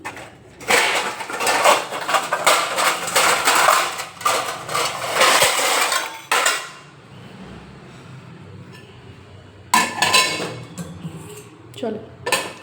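A lid and a plate go onto a pot of freshly boiled milk on a switched-off gas stove in a home kitchen. Busy metallic clattering comes up close, then a quiet pause, then a few more clinks and knocks.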